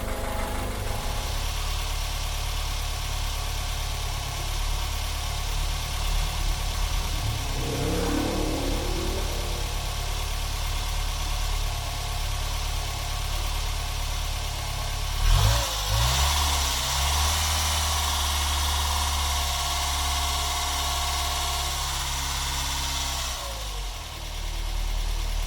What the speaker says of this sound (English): he lives, so I'm going to let it go up to temperature, bleed the cooling system